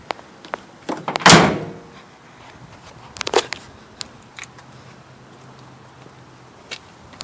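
Tailgate of a 2010 Ford F-150 4WD pickup with bed liner and tonneau cover opens with a loud close metallic clunk and rattle, then a second knock and a few light taps and scrapes, no talking.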